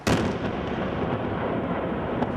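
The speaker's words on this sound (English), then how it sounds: "A series of explosions along the border brought the concrete blocks crashing down." A dense, continuous rumble of night-time explosions bringing down concrete border blocks, loud and close, rolling without pause, with a sharper crack near the end.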